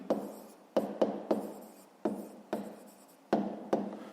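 Pencil strokes on paper while a maths exercise answer is written out: a series of short scratchy bursts, about eight, irregularly spaced, close and fairly quiet, with no talk.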